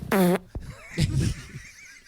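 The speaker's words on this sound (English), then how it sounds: "You know what makes that drop funniest is that's me farting." A recorded fart used as a comic sound drop, a loud buzzy blast near the start followed by a softer sputter, with brief indistinct voice sounds after it.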